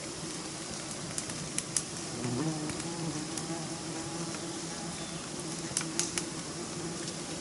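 Bees swarm around a wild honeycomb on a high cliff edge, their close, continuous buzzing filling the air, with brief sharp clicks as insects pass near.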